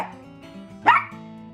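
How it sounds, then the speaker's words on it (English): A puppy gives one sharp, close bark over a low background hum, with no talk around it. "the dog's running around like a little maniac"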